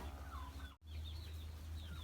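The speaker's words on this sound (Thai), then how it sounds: "ไก่" Chickens cluck softly on a farm, a few short calls over a steady low hum.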